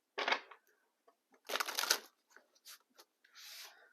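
Tarot cards riffled and shuffled in a few quick bursts, crisp papery fluttering close by with short pauses between, no talking.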